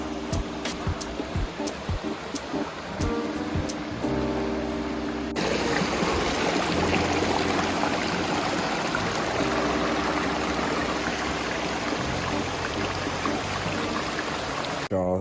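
Waterfall on a Los Angeles hike, a steady broadband rush of falling water that fills the whole clip, loud and continuous, with a brief dip near the start before the roar swells.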